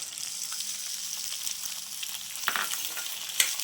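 Tomatoes, garlic and green chilies sauté in a pan with a continuous bright sizzle, punctuated by a couple of louder scrapes and clinks from a spoon stirring near the end, with no talking.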